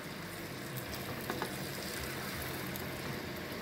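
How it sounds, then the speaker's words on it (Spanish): Potatoes browning in a frying pan give off a steady, even sizzle with small crackles and pops, close up and without talk. "Aquí los voy a dejar dorando, a que se doren bien doraditas"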